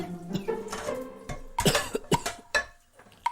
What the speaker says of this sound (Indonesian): Ayah masih batuk.